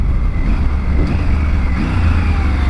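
A 2020 Triumph Tiger 900 GT Pro motorcycle engine runs smoothly with a steady mid-range drone and slight rises in revs, heard close and loud with no talking.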